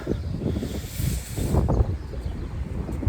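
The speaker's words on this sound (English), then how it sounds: "I hope the wind is not too loud" Gusty wind rushing across the microphone in uneven bursts, fairly loud and unbroken, with no speech.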